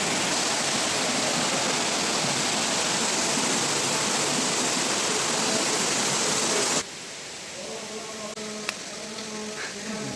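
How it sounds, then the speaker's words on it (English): A small waterfall at Gadachandi in Keonjhar rushes as a loud, steady broadband roar that cuts off abruptly partway through, leaving quieter ambient sound with faint voices. "Now here is the small waterfall and the lots of large waterfalls."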